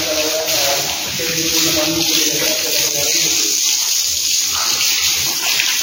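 Water flows steadily into a buffalo shed at a university dairy farm, a continuous close gushing splash with a voice briefly audible under it.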